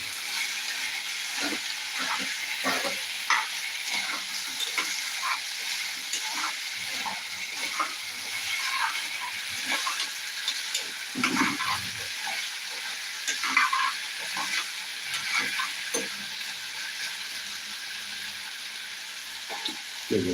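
A green peas curry with coconut cooks in a hot pan, giving a continuous close sizzle and hiss with scattered stirring scrapes and taps that carry on for the whole stretch.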